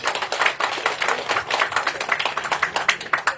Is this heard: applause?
yes